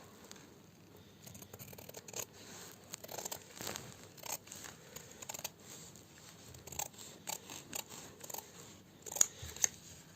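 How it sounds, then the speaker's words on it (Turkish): Scissors snipping through a fabric piece at the back of a pair of trousers during zip sewing work, a quiet, irregular run of crisp cutting and rustling sounds close by with no talk. "buradaki parçamızı keserek arkadaşlar bakınız"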